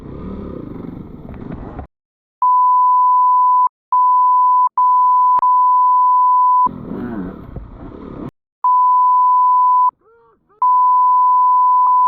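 A sharp electronic warning tone beeps in several long steady bursts, loud and clean, with gaps between, during an off-road cross-country hare scramble motorcycle race. Short stretches of muffled engine and clatter noise interrupt the beeping.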